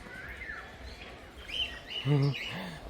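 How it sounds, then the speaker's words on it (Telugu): Small bird chirping inside an aviary at an ecopark in Hyderabad, a few faint high chirps scattered over a low background rumble, ending in one slightly louder call. "ఇది ఒక చిన్న పక్షి"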